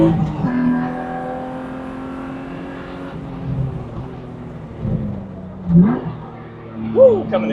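A BMW E36 M3 track car engine pulls hard on the throttle in third gear around a circuit, a loud, rising mechanical drone with shifting pitch and short revving bursts toward the end.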